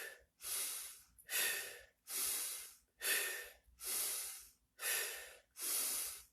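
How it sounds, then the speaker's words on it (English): Forceful breathing repeats in a steady cycle, with sharp inhales through the nose and strong exhales through the mouth. About seven loud, close breaths are heard, with no talking. "you're going to inhale forcibly through the nose, and then exhale forcibly through the mouth."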